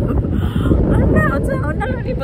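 Strong wind at Matapouri Beach near Whangarei, New Zealand, buffets the microphone with a loud, constant low roar, and voices can be heard over it.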